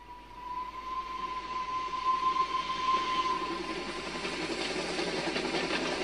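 A train running as a sound effect in an audiobook of Around the World in Eighty Days, a steady rumbling rattle of carriages with a faint whistle-like tone, continuous and moderately loud, no voice.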